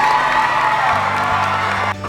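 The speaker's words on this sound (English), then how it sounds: "So big round of applause for Mr." A school audience at Bonny Slope applauds and cheers for a staff member: close, lively clapping with whoops and children's shouts, steady for about two seconds before cutting off abruptly.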